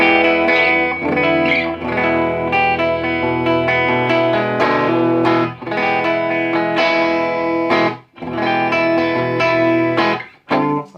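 Electric guitar played clean and dry straight into a Deluxe Reverb amp with the pedal blend turned off, ringing chords and single notes in loud phrases separated by short pauses.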